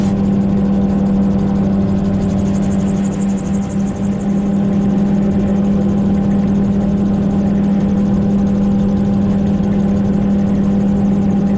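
A steady gyrocopter engine drone runs continuously at close range while hovering, with a strong low hum and constant mechanical buzz, no voices.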